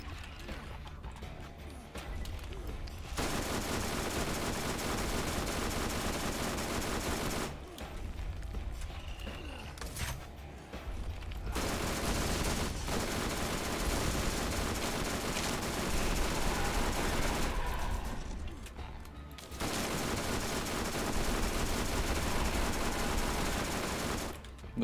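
Rapid fire from the Double Anarchy gun in Borderlands 1, long dense bursts of loud gunfire broken by short gaps.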